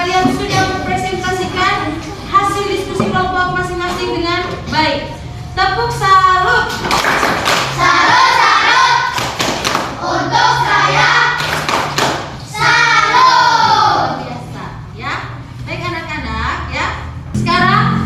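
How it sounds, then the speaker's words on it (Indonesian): Classroom students clapping together after group presentations, thumps and claps mixed with children's voices and a teacher talking throughout. "Tepuk tangan."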